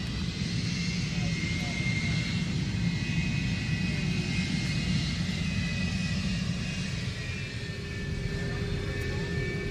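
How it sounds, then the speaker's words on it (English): The jet engines of F-104 Starfighters make a steady, continuous roar that fills the whole stretch, even and unbroken from start to finish. "F-104 Starfighters."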